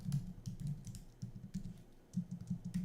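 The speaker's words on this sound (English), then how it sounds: "I'll just wait for you to finish typing" Steady typing on a computer keyboard, soft rapid key clicks in irregular bursts with brief pauses, close and moderately quiet over a low room hum.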